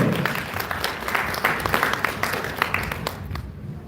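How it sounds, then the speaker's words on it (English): At an Anime Nebraskon Gunpla model competition results announcement, the crowd claps for an entrant in a lively burst that gradually thins out by the end. "Give another round of applause for Kenji and his big"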